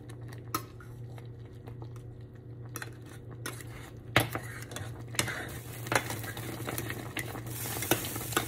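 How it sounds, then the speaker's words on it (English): A warm fruit topping bubbles and simmers in a pan as a spoon stirs it, with soft sizzling, occasional metallic clinks and scrapes against the pan, quiet and close with no voices. "So I'm just going to let that continue to boil for about 4-5 more minutes until it gets thickened up a bit."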